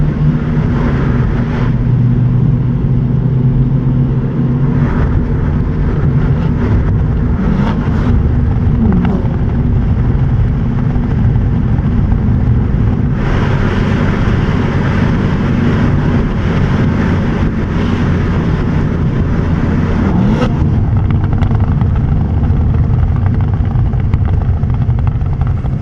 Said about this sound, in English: the engine and the exhaust playing its finest song